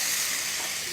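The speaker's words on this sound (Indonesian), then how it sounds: "Bumbunya dioseng-oseng sampai dia wangi dan berwarna lebih gelap." Spice paste sizzles while being stir-fried in hot oil for a skipjack tuna dish, giving a steady, dense hiss throughout the brief moment.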